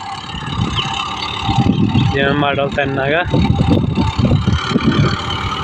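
A tractor engine runs at a steady idle close by, a continuous low throb beneath someone talking over it.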